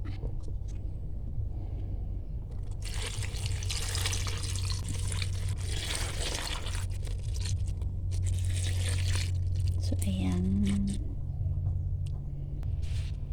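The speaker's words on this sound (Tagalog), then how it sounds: "Tapos ilalagay na natin yung ating gata." Coconut milk pours into a mashed ripe banana snack mixture, a steady liquid wash and trickle running throughout with a brief gurgle late on, fairly loud and close with no talking.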